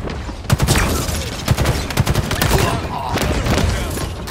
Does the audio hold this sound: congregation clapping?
no